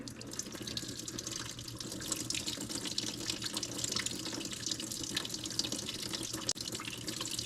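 Old fuel drains steadily from the tank of a 1947 Ford 2N tractor, a continuous close hiss and trickle of flowing liquid with no pauses.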